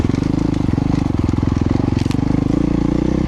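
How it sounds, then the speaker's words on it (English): A dirt bike engine revs loud and close while riding across ice in a Canadian winter, its fast pulsing exhaust note steady throughout, with faint crunching underneath. "So I'm weighting the bike with my body weight, let it get lots of grip in."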